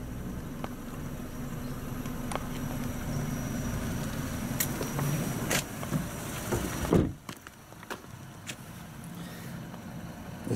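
A rear window mechanism runs inside a Vauxhall Corsa, a steady whirring drive for about seven seconds that cuts off abruptly and leaves a quieter cabin with faint clicks.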